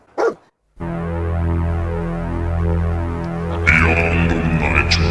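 Dogmeat, the dog companion in the Fallout 4 video game, barks and whines, a sustained close canine vocalisation over a droning game soundtrack.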